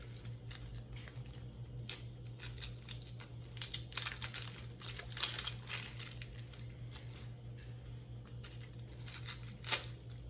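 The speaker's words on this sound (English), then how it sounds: "I like to cut the ends off, peel this outer layer" Papery outer skin peeled off an onion by hand, a run of close, irregular crinkles and small tearing crackles over a low steady hum.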